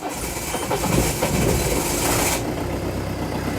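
A Daihatsu Charade engine cranks and catches, settling into a rough, loud running rumble as though misfiring on some cylinders.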